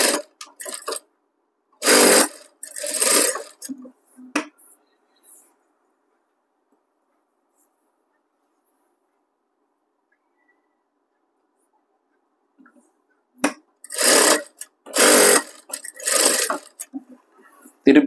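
A sewing machine stitches a blouse in two short bursts of rapid mechanical whirring, near and clear, separated by a long silent pause, with no talking in between.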